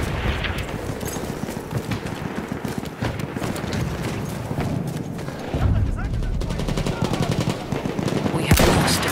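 Battlefield 1 battle with enemy machine gun fire, dense bursts of gunshots and booms filling the whole span, loud and continuous, with shouted voice callouts over the din.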